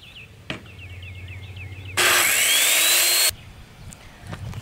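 A power saw makes a single loud, close cut through wood for a tank enclosure stand, a harsh whine lasting just over a second, framed by quieter background sounds, with chirping birdsong at the start.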